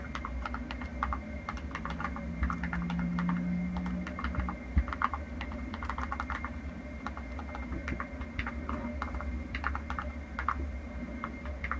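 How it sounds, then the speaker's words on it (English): Rapid, steady clicking of keys on a Clicks keyboard case for the iPhone 16, recorded close up as continuous typing with no talking. "here's a soundbite of just how good Clix sounds when you're typing on it"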